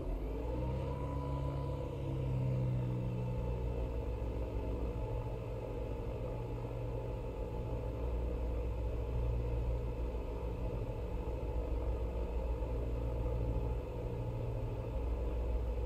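Steady droning engine noise of a twin-engine Diamond DA-62 aircraft in the X-Plane 11 flight simulator, with a low rumble and whir, holding constant throughout with no voices.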